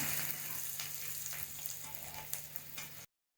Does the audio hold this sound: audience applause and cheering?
no